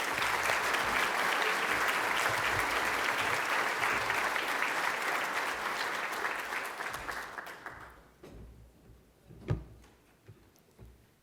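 A conference audience at a plenary forum gives a full, steady round of applause to welcome a speaker to the stage, then the clapping thins out and fades into a quiet room.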